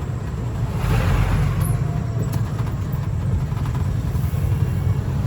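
Steady road traffic of tricycles and cars on a Philippine road, heard from a moving electric vehicle; a continuous loud low rumble of engines and tyres with passing vehicles swelling briefly, no talk.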